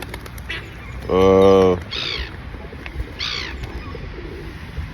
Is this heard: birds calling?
yes